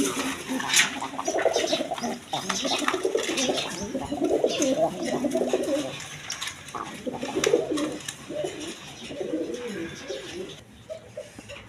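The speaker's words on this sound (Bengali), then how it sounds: "এখানে এক পেয়ার ওয়ারেন চিলা কবুতর আছে" Domestic pigeons, a pair of Warren chila birds among mixed breeds at a pigeon seller's, coo steadily in low repeated throaty phrases, close by, with faint chirps and background clatter throughout.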